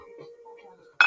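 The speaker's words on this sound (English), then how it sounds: "Little mugs." Small mugs clinking as they are handled among other dishes, one sharp ceramic clink at the end after faint background hum.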